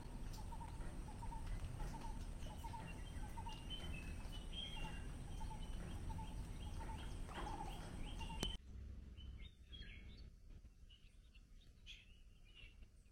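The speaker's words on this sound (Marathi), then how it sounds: "तुम्हाला पक्ष्यांचा आवाज ऐकायला येतो आहे का?" Birds calling in the rainy, green Konkan countryside near Kankavli: faint, evenly repeated calls over a steady hiss of rain and insects, with a sudden drop to quieter ambience near the end.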